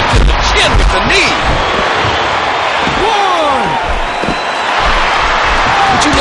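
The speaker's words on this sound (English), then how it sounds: "Listen to this crowd show their appreciation for these amazing competitors." Arena crowd noise from the WWE 12 wrestling video game, a steady roar of cheering that fills the whole stretch, with thuds of in-ring slams and a commentator talking over it.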